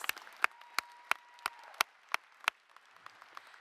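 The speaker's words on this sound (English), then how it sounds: "Another round of applause, please." Scattered claps from a ceremony audience at a university achievement celebration for graduates, a handful of separate sharp claps spaced out over a few seconds, fairly faint and thin rather than a full ovation.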